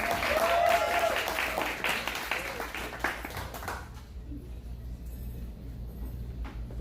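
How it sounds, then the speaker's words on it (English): Audience applause at a poetry open mic, a burst of clapping with voices mixed in that fades after about four seconds into quiet room noise with scattered claps. "Let's hear it for Shirley."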